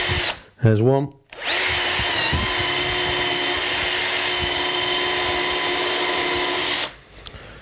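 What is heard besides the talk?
Bosch drill drilling a countersunk hole in wood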